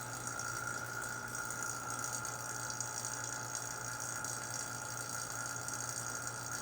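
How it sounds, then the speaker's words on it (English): A vacuum pump labours steadily on a chamber holding 27 eggs near its pressure limit, giving a continuous, even mechanical hum and rattle with a constant level throughout and no talk. "we're almost to the limit of what this vacuum pump can actually do"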